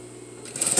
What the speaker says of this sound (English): now I'm going to sew a quarter seam